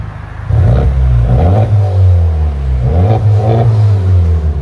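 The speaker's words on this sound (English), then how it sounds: "Honda Civic Type R, 6-speed with a Remark IT system." A 2022 Honda Civic Type R with a six-speed manual and a Remark titanium exhaust revs loudly and close by, its deep droning note climbing and falling in two sustained pulls.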